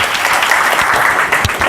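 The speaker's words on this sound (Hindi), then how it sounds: "दीदी के लिए एक बार ताली बजाइए।" An audience claps throughout a talk on the duties of youth, a dense, loud burst of many hands that holds steady for a couple of seconds.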